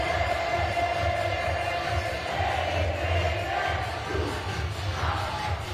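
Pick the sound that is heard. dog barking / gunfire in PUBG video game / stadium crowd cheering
stadium crowd cheering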